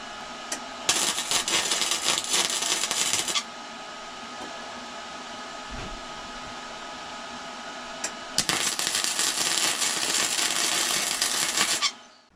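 Tack welding a part onto the frame of a Chinese four-wheeler, two loud, steady bursts of crackling, hissing arc of a few seconds each, separated by a quieter pause with a faint clunk.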